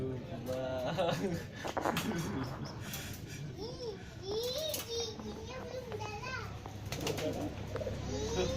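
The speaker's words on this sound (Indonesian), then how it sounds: "Namanya burung merpati." Pigeons coo in soft, low, rolling calls close by, repeating throughout while children chatter and play over them.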